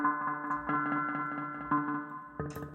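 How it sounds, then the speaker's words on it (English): A virtual handpan sample library plays rhythmic metallic notes through a delay effect, each strike echoing in repeating pulses that layer into a shimmering, ringing pattern without any voices. "So you have a delay"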